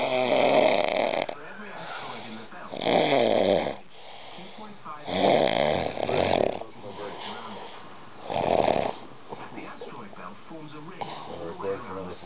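A man snores while sitting and watching TV, several loud rasping snores in an uneven rhythm close by, with quieter murmuring sounds between them.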